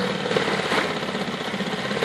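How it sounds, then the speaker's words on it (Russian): A Sea-Pro 5 hp outboard boat motor runs unevenly close by, its steady drone wavering and faltering as if about to stall when given throttle. "Начинает мотор глохнуть, когда ему даешь чуть газку."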